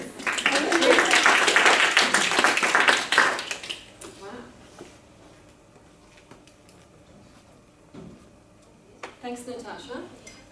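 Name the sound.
audience round of applause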